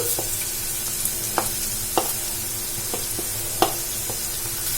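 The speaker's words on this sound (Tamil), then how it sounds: "இந்த எண்ணெயில வந்து வெங்காயத்தை நல்லா வதக்கிக்கலாம்." Finely chopped large onion frying in hot oil in a kadai, a steady close sizzle broken by a few sharp scrapes and clacks of a spoon stirring against the pan.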